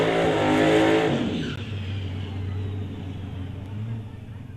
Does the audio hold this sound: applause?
no